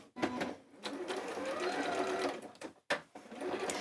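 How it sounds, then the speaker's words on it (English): Sewing machine with a walking foot stitching through thick layers of jelly roll quilt fabric, a steady whirring run that breaks off briefly near the end and then starts up again. "And then we sew 1/4 inch to the edge."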